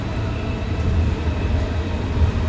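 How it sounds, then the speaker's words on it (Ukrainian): An OC Transpo light rail train in Ottawa rumbles steadily from inside the car, a loud continuous low-frequency roll of wheels and motor with no talk. "Таке щось незрозуміле, щось середнє між трамваєм і електричкою."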